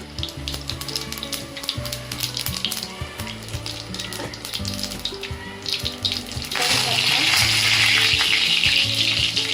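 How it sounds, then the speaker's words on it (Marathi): Mustard seeds and cumin splutter in hot oil while a bread vada masala is being made. The crackling sizzle runs under background music, then swells into a louder, denser hiss for the last few seconds. "आपली राई चांगली फुटत आहे, सगळे वरती आलेले आहेत. आता आपण घालूया जिरे."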